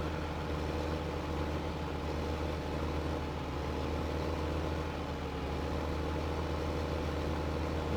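Steady low drone of a tractor engine in a farming game, running continuously at an even idle with no change in pitch or loudness throughout.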